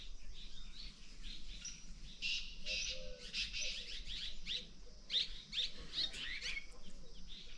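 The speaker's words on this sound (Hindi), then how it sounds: "आज हमने चिड़ियों को दाना डालने के लिए एक टाइल बिछाई है और देखिए कितने सारे पक्षी ऊपर मंडराना शुरू हो गए" Many small birds chirp and tweet busily around grain scattered on a tile at a hillside farmhouse cottage, with dense overlapping calls and occasional pigeon coos, fairly close and steady with no talking.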